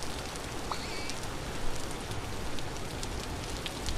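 Steady rain falls in the survival game Vintage Story, a dense, even hiss of drops on surfaces that runs unbroken throughout with no voices.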